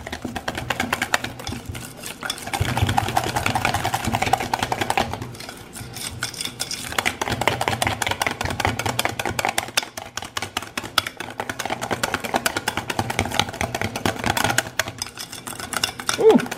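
A kitchen whisk beating cheesecake batter in a bowl, a fast continuous rattling and clinking of wire against the bowl that runs almost nonstop with a few brief pauses.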